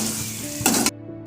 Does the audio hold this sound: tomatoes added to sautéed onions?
yes